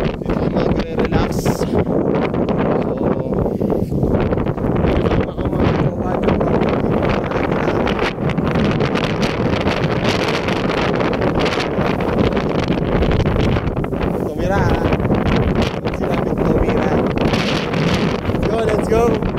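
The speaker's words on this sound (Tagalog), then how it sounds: "sarap ng hangin" Strong wind on Gulugod Baboy mountain in Mabini, Batangas, buffeting the microphone in a loud, continuous rush that swells and eases in gusts for the whole stretch.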